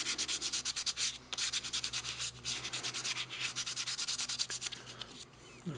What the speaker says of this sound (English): I also grabbed the drawer here and sand up the face of it with each grit